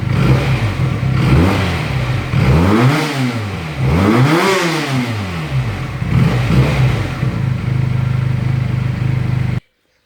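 A Benelli Tornado 302R sport motorcycle engine revs loudly and repeatedly, rising and falling in pitch with a throaty exhaust note, close by, then cuts off abruptly.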